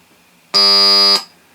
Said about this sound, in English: You can kind of hear the square wave.